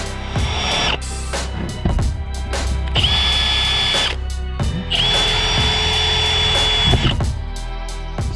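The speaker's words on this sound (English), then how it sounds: "I'll drill the ends out and give it a weld." A power drill whines in repeated bursts, revving up and cutting out, grinding loudly through metal close by, drilling out ends for welding during a Turbo Holden 304 and TH400 swap into a VR Commodore, with clanks and rattles between runs.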